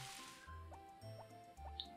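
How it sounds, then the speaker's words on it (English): Water drips in the video game Harvest Moon: three evenly spaced, plinking drops over a steady, soft tonal game backdrop, with a brief hissy splash at the start. "The sound of water makes everyone want to go pee-pee."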